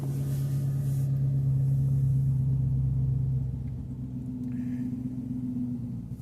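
A Daytona car idling just after startup, a loud steady low rumbling drone whose pitch shifts partway through as the idle settles, with no talking.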